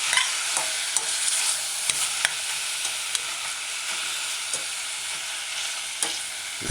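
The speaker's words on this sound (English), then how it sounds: "Stir it in, coating all your mushroom pieces with herbs. About 15 seconds after, add your chopped tomato." Mushroom pieces coated with herbs, with chopped tomato added, frying in a pan for a vegan stew; a bright continuous sizzle with regular scraping stirs and small clicks, close and alone.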